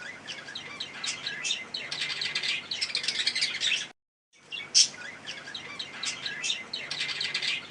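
Birds chirp and tweet steadily in an organic garden planted with millet and pigeon pea, many small calls overlapping. There is a brief silent gap partway through.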